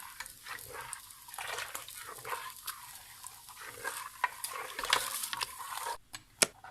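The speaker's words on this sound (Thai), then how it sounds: "คนไปให้ทั่วนะคะ เพื่อไมให้มันติดก้นเพื่อไม่ให้มันไหม้ก้น" A spoon stirs hot homemade soy milk in a pot in a home kitchen in Denmark, giving faint, steady scraping and swishing with light bubbling and a few sharp clinks near the end.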